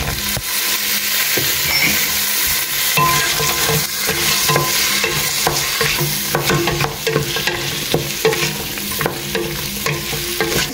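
Peas stirred into a pot for a one-pot meal, a loud, continuous close-up sizzle with scraping spoon strokes and clatter throughout, no speech.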